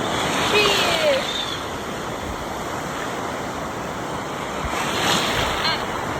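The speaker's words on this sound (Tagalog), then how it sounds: "Ayan na yung alon." Sea waves roll in steadily at Boracay in a continuous surf roar with wind noise against the microphone, swelling near the start and again around five seconds, while faint voices and a brief high call come through.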